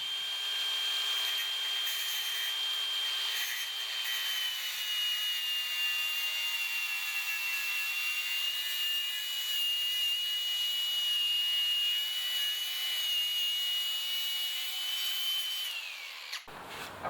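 An angle grinder cuts through a stainless steel bolt on a ute camper body, giving a loud, steady high-pitched whine with a grinding rasp that runs unbroken for about sixteen seconds and then stops abruptly.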